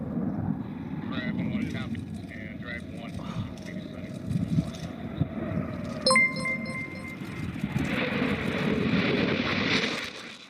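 A recorded aircraft flyby effect played from a soundboard, heard as a steady engine roar with a rising whine and a brief tonal shift partway through, with voices talking over it.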